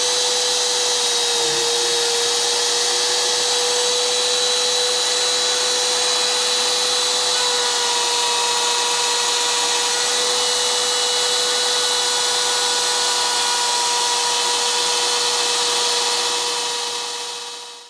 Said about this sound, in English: This allows the router bit to cut out the complete shape instead of having to come back when you're done